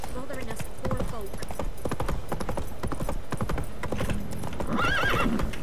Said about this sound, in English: Hemen atı çağır.